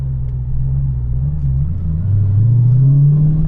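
Supercharged 426 Whipple Hemi engine idling steadily around 1,000 RPM, a loud, close, continuous low rumble that deepens and swells slightly in the second half.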